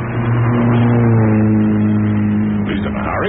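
A car accelerates away as a radio drama sound effect, its engine rising steadily in a loud, close rev with no voices over it.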